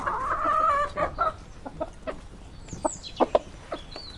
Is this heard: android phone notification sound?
no